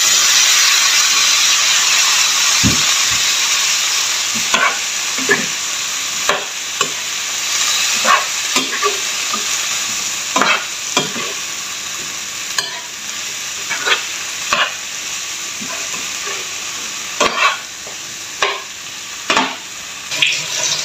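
Cauliflower and eggplant stir-frying in a pan for pakbet, a continuous loud sizzle and hiss with intermittent scraping and clacking from a utensil stirring the vegetables.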